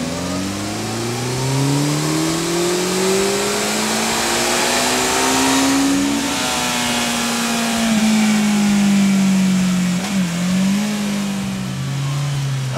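A Honda CB 1100 inline-four retro motorcycle engine revs steadily and smoothly upward, its pitch climbing, dipping briefly, then climbing again, loud and close with no talk.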